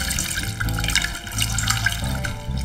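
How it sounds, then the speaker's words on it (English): Cut potatoes for french fries rinsed under running water in a sink, a steady close splashing and trickling that runs without a break. "A quick rinse again to remove excess sugars from the surface of the potatoes to aid crispness."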